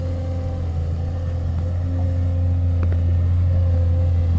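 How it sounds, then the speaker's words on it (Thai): The engine of a Chinese-made excavator runs at a steady idle with a constant low rumble and hum. It is close and fairly loud, and nobody speaks. "รถขุดสัญชาติจีนนะครับ"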